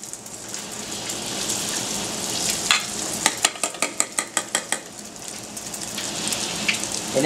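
Egg foo young deep-fries in hot oil with a steady crackling sizzle, broken midway by a quick series of about ten sharp metallic taps, likely a ladle knocking on the pot's rim.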